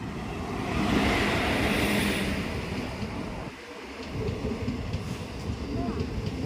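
A train rumbles past with a broad, steady roar and rattling, fading briefly midway before the noise builds again.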